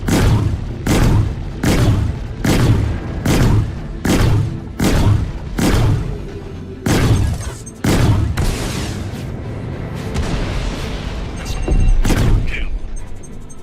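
A ship's disruptor turret in Star Citizen fires in a steady rhythm of loud, booming shots about every half second, then pauses before a few more blasts over a rumbling background.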